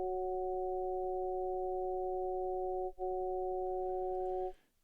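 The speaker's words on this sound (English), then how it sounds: "we're going to hear an O sound when we play all of them together" A synthesized vowel O built from several stacked harmonics plays as a steady, pure electronic tone, briefly interrupted once near the middle, then stops.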